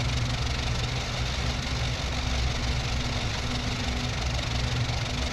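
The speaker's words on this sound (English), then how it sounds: "Okay, engine up and running." The engine of a Pe-8 bomber in IL-2 Sturmovik runs at a steady, droning idle, a dense continuous rumble with no breaks and no voices.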